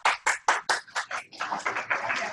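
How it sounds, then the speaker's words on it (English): A small group claps together at the close of a chair yoga exercise, a dozen or so distinct claps in a quick, slightly uneven rhythm that blurs into denser applause toward the end, close and fairly clear. "Let's have a clap for ourselves."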